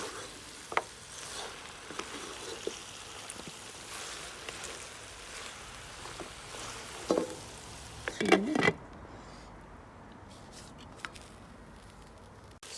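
Lamb and spinach curry cooks in a pan outdoors in a garden. A soft, steady sizzle runs throughout, quiet overall, broken by a few louder clatters of stirring near the middle.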